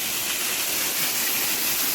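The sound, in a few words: waterfall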